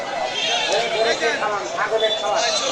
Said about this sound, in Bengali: দেখেন অসংখ্য ছাগল